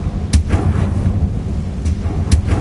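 In Hogwarts Legacy, the Confringo fire spell bursts in a couple of sharp, booming blasts with rumbling low thuds in between, loud and close, no voices.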